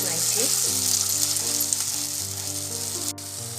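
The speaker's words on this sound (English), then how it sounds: "Using the same tawa oil, I am adding the onion and almond paste here." Onion and almond paste frying in oil in a kadai, a steady bright sizzle with soft stirring scrapes running throughout, close and fairly loud.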